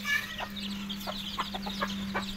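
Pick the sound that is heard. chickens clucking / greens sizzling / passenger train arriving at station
chickens clucking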